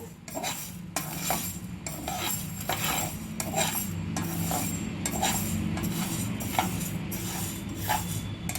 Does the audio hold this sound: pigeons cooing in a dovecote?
no